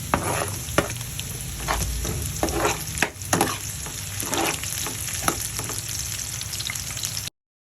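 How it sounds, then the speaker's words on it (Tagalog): Garlic and onion sautéing in a pan for Filipino pork adobo: a loud, steady sizzle close up, broken by repeated scraping stirs and a few sharp clanks of a utensil against the pan. "lalagyan na natin yung ating bawang and gigisa lang natin 'yan"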